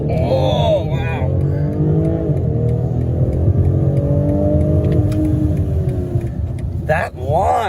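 2021 BMW X3 M40i with sport exhaust launching hard from a stop, a loud rising engine roar climbing through the revs with a gear change, close and steady, with brief talk near the end.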